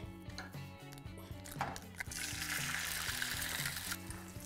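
Eggs frying in a pan, a soft steady sizzle that rises after a couple of seconds beneath a light rhythmic music bed.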